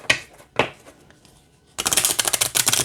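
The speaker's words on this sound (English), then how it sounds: "Let's shuffle and pull a card." A few soft card flicks, then a dense, rapid riffle of an oracle card deck shuffling close by, loud and continuous to the end.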